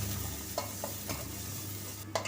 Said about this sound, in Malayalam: നമുക്കിതിലേക്ക് സവാളയും കൂടി ഇട്ട് മൂപ്പിക്കുക